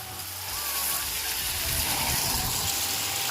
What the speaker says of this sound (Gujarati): તો મિત્રો આપણી મોટર ચાલુ થઈ ગઈ છે, તમે જોઈ શકો છો અહીંયા, અને પાણી બધું સીધું જાય છે